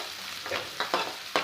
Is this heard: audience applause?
no